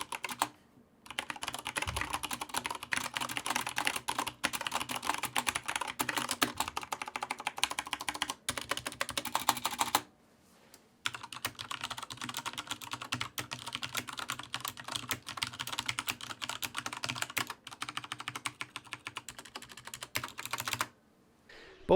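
Continuous typing on HyperX Alloy Elite and Corsair K95 Platinum mechanical keyboards with Cherry MX Brown switches, fast clacky keystrokes in two long runs separated by a brief pause, close and clear.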